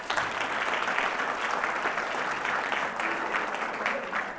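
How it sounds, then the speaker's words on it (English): Steady applause from an audience at a village State of the Village address, dense and even, continuing for several seconds at moderate loudness. "Give them all a round of applause."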